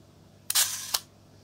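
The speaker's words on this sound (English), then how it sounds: "The shutter is the key with these." A Kiev 4 rangefinder camera's metal shutter fires once, a crisp close mechanical click followed by a brief second snap less than half a second later, in an otherwise quiet room.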